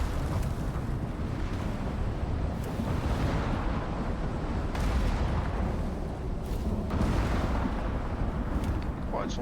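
Thunder rolling during a lightning storm in the survival game Icarus, a dense low rumble broken by several sharp cracks and booms that recur every couple of seconds, loud and continuous with no pause.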